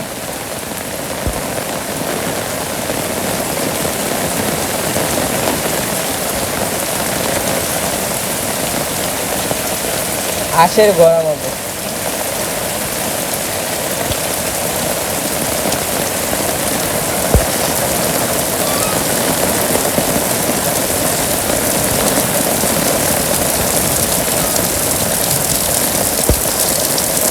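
Rain falls steadily in a Bangladeshi village, a dense, even hiss of drops on surfaces that goes on throughout, broken once by a brief voice and a few faint knocks.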